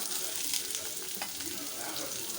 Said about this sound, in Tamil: இப்போ இதை வந்து ஒரு அஞ்சு நிமிஷத்துக்கு நம்ம வந்து இதை நல்லா வதக்கிக்கலாம்